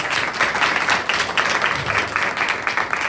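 An audience at a music performance applauds, dense and continuous clapping from many hands that stays loud and fairly close for several seconds.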